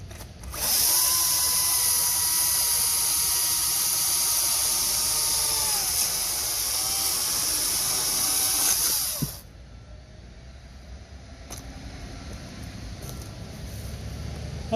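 A Makita electric chainsaw cuts through wood with a loud, high, steady whine for several seconds, then drops to a quieter idle with faint clicks, close by and without talk.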